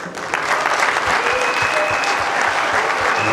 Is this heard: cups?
no